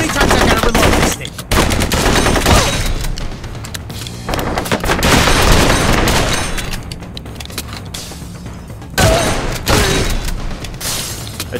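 Rapid automatic gunfire and bursts of shots from the shooter video game Blue Estate, loud and nearly continuous with brief gaps, mixed with game effects.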